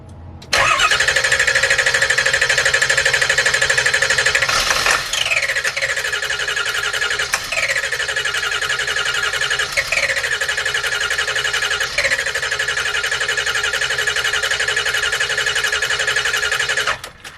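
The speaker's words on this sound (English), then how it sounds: "I cranked my engine over many times, and it won't start yet" A bus engine cranks repeatedly without catching, the starter grinding in a steady loud whine broken by several short pauses and restarts across the clip, with no voices.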